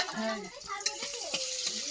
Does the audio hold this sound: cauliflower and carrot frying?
yes